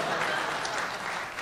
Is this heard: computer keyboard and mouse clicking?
no